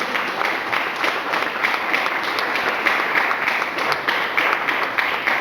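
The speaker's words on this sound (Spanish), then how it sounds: "¿Cuántos le dan un aplauso al Señor?" A church congregation applauds in praise during a sermon, producing a sustained, evenly dense round of clapping that fills the hall.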